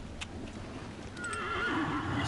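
A horse whinnies in the video game Dragon Age, a rising and falling neigh over a steady low ambient bed, with faint hoof clip-clop underneath and no talking.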